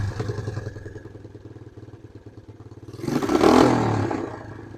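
Small Suzuki LT160 quad bike, left sitting for three years, idles with a steady low rumble close by, then revs up sharply for a loud burst before settling back to a busy running drone.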